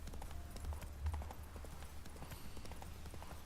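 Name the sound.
horse Roach's hooves galloping in video game The Witcher 3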